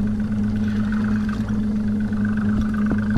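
A boat's engine runs steadily during a sea fishing trip off Spodsbjerg, Langeland, a loud close droning hum with no break.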